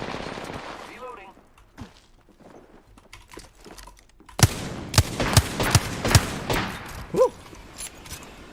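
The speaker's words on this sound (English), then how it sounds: "Taking fire. Bogey right here. The enemies are shooting at me." Enemy gunfire in Apex Legends: bursts of loud, sharp shots crack in a rapid sequence after a quieter stretch of scattered game sounds, with a brief exclamation from a player.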